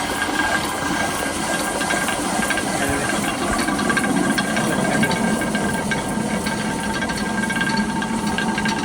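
Water-powered ghatta mill turning and grinding grain, giving a steady, loud rushing and churning wash with a continuous low rumble throughout, close by and without speech.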